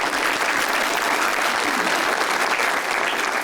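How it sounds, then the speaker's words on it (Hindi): Steady audience applause from a studio crowd at a Pakistani celebrity chat show, dense and continuous clapping throughout, fairly loud with no talking over it. "उनके पीछे वाले ने जो ताली बजाई है ना"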